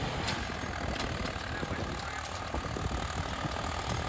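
A Swaraj tractor engine runs with a harrow attached, a steady, fairly faint diesel drone with rhythmic mechanical ticking and rattling pulses throughout.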